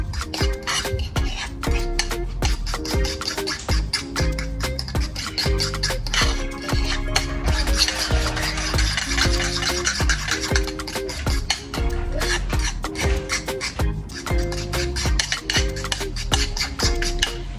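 A spoon scrapes and clinks steadily around a bowl while an avocado and banana face mask mixture is stirred, in a busy repeating rhythm over soft background music, with no talking.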